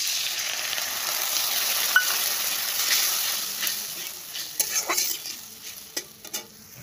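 Cumin, chilli, ginger and onion frying in a pan, a loud steady sizzle that thins out toward the end as sharp utensil scrapes and taps stand out.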